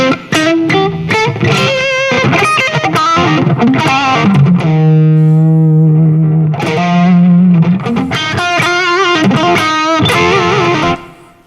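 An electric guitar through a Seymour Duncan 805 distortion pedal plays loud, saturated chords and riffs, with a long sustained held note partway through.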